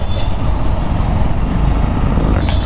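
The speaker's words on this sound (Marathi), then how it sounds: "सकाळी ट्रॅफिक." Morning road traffic in Pune heard from a moving motorbike, a loud continuous rumble of engines and wind with a brief higher horn-like tone near the end.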